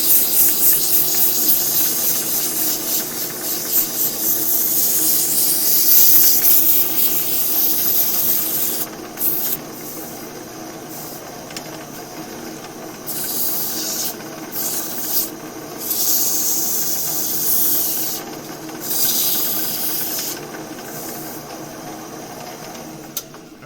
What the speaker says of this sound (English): now would be a really good time to sand this. So I'm going to have to try to bend in weird positions to try to get the sandpaper up in there